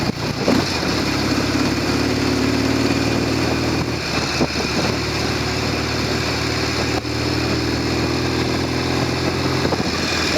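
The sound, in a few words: motorcycle engine running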